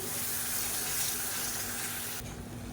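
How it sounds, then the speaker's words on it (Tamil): Tap water runs steadily into a mixer jar to rinse it, a close, continuous splashing stream that cuts off near the end. "இப்போ மிக்சி அலசிட்டு கொஞ்சமாக தண்ணி சேர்த்துக்கிறேன்"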